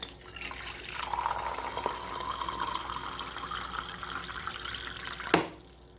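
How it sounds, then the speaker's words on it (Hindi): Water runs steadily into a glass, a continuous close pouring stream that ends in a brief sharp knock before falling quiet. "सबसे पहले ना मैंने इस गिलास में स्टार्ट किया पानी।"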